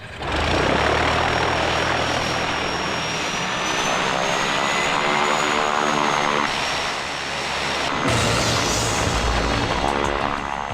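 Heavy, sustained engine roar of an airplane taking off on a runway in an action movie scene, a loud droning rumble with shifting propeller-like tones that swells and holds steadily throughout, with no voices.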